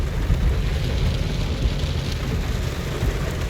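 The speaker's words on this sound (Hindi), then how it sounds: "बेसल से थोड़ा सा पहले बहुत तेज़ जो है ना बारिश होना शुरू हो गई है" Heavy rain pounding steadily on a car near Basel, a dense, loud roar of drops with the low rumble of the vehicle underneath and no pauses.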